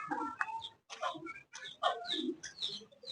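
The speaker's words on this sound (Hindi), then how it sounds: "कुकड़ी और मुर्गा, ये गली में दाना चुग रहे हैं" Hens and a rooster pecking at grain in a street cluck nearby in short, uneven bursts separated by brief pauses.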